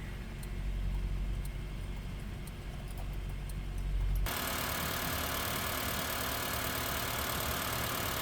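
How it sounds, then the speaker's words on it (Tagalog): A Honda car engine idles while warming up, a faint, even low hum with light ticking for about four seconds before it gives way to a flat hiss. "Start na po natin ang engine at painitin ang makina para umikot yung tubig dun sa loob ng cooling system ng ating makina."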